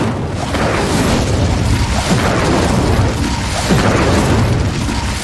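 Incendio fire spell cast in the video game Hogwarts Legacy, a loud, continuous roaring burst of flame with rumbling booms lasting several seconds.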